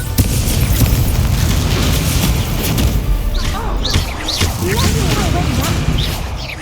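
Spell explosions from Confringo and Incendio in the Hogwarts Legacy video game, dense repeated booms and crackling bursts in a continuous loud battle mix, with a player shouting throughout.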